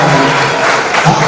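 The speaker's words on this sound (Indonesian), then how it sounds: "Tepuk tangan dulu semua." Audience at a graduation ceremony applauding, a brief, loud, dense wash of clapping.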